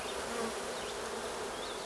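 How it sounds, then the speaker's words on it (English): Steady, dense buzzing of many honeybees at a hive being combined with another by the newspaper method, a continuous drone close by with occasional individual whines rising above it. "Here we have the parent colony, all the bees that were in there."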